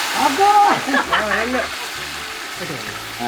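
Marinated chicken fries in oil during outdoor village cooking, a close, steady sizzle with bubbling and stirring, while someone talks over it.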